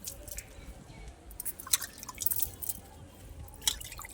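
Epsom salt scattered by hand onto rose plants in a garden, heard as faint, scattered light patters and ticks, with a few small clusters of grains landing on leaves in quiet surroundings.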